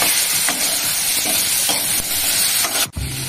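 Steady, close sizzle of katla fish frying in a pan for a Bengali kalia with tomato, stirring clicks recurring every half second or so and a sharp clatter near the end.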